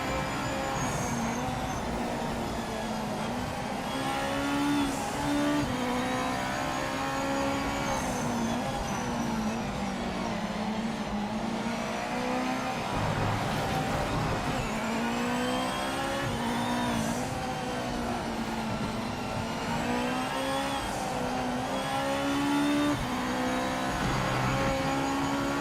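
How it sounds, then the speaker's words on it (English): Race car engines roar continuously in the Project Motor Racing video game, a dense pack of cars charging and dive-bombing together, steady and loud with overlapping revs and shifting pitches throughout. "Sure enough, cars were charging in."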